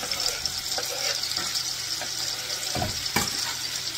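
Chopped vegetables sautéing in a pan for a light home-cooked meal, a steady close hiss of frying with a few brief clatters of stirring, no voices.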